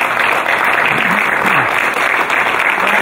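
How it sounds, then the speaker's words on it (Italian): A crowd gives loud, sustained applause for Motoclub Spinea at the motorcycle club's 50th anniversary celebration. The dense clapping holds steady throughout the three seconds, with faint voices briefly audible underneath. "Un grande applauso al Motoclub Spinea e a Gigio Faraon."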